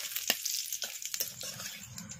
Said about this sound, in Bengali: তেল গরম হয়ে গেছে, তেলের মধ্যে দিয়ে দিচ্ছি গোটা জিরে, শুকনো লঙ্কা আর একটা তেজপাতা